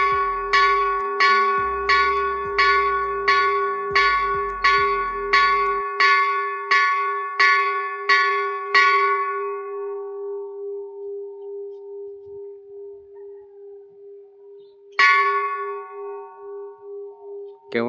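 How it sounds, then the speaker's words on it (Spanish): A church bell at a memorial Mass in Jerez rings in steady, resonant strokes about once a second for nine seconds. The strokes then ring out and fade, followed by one more loud strike, with no talking. "Qué bonito se escuchan las campanadas"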